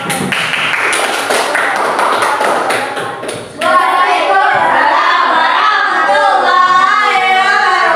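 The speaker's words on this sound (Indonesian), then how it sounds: "beri tepuk tangan untuk kelompok" A classroom applauding a student group: a burst of brisk, close clapping from many hands gives way to lively children's voices chattering and chanting together.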